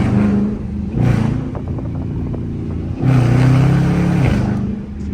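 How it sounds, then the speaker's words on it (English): A Dodge Charger R/T engine roars loudly through its intake while driving, with deep rumbling surges that swell and ease in two strong waves, close and dominant with no talk. "Nah, you can hear the intake on this bitch."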